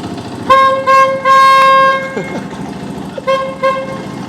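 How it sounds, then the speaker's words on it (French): A car horn fitted to a supermoto motorcycle blares in several loud close honks, one long sustained blast and shorter toots, over a low idling engine. "Il m'a tapé un klaxon de voiture dessus."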